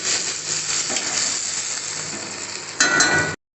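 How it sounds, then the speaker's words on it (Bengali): Ginger frying in hot oil with cumin and coriander powder for a vegetarian butter tadka, a steady close sizzle and hiss that swells louder near the end, with no talking. "আদাটাকে একটুখানি ভেজে নিচ্ছি।"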